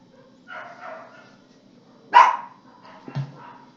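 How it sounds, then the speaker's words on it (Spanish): Dogs bark in a home setting, a few soft yips followed by one loud sharp bark and a shorter trailing bark, fairly close with quiet gaps between. "Ladradera"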